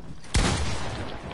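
Automatic gunfire sprays in a multiplayer video game, opening with a sharp burst and then holding a sustained, dense rattle that stays loud throughout, with no voices.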